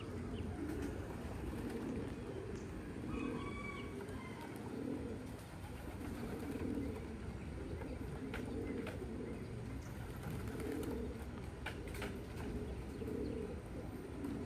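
Racing pigeons during a 40-mile Capistrano Classic race in heavy fog, soft repeated cooing in a rhythmic low murmur over steady outdoor background noise, with occasional faint chirps.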